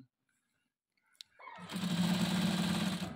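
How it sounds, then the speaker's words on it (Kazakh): After a brief quiet start, a sewing machine whirs into a steady, loud, continuous hum as it stitches along the top of an overlocked seam. "Осылай тігіп шығамыз."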